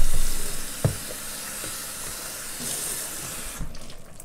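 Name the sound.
adding water to okra sauce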